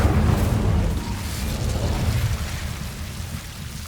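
An Incendio fire spell cast in the Hogwarts Legacy video game gives a loud, low roaring burst that rolls on as a rumbling blaze and slowly fades over a few seconds.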